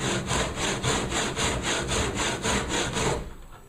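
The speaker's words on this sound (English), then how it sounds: "we simply just carry on sawing backwards and forwards" Hand saw cutting through a pine board in steady back-and-forth strokes, about ten even rasping passes close up, alone with no talk, fading at the end.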